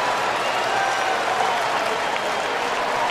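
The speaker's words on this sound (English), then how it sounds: "The crowd reacted to the replay" A college football stadium crowd reacts to a bowl-game replay with a dense, steady roar of cheering and applause that holds loud for the whole stretch.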